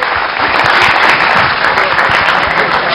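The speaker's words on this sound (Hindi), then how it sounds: "किशन की बात की ताली।" A studio audience on a Hindi television talk show bursts into dense, sustained applause after a correct answer, loud and steady throughout with no talk over it.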